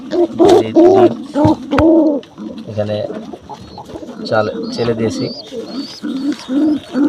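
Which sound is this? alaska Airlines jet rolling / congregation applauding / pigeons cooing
pigeons cooing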